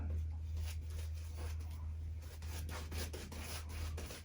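A shaving brush works a second layer of lather onto a face, giving a soft, rhythmic scrubbing and rubbing, repeated strokes close up over a constant low hum.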